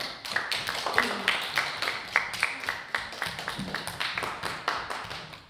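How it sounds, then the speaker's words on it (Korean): An audience applauds at a Korean speech event, with a steady run of hand claps repeating at close range and no talk over them. "연설을 박수로 들어보겠습니다"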